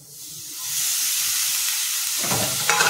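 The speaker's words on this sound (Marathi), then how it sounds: "हे आता आपल्याला व्यवस्थित असं परतून घ्यायचं आणि हे काजू त्यात टाकून घ्यायचं" Fresh cashew nuts being sautéed in oil with roasted Malvani masala, a steady loud hiss of frying that builds and holds, with a burst of stirring clatter near the end.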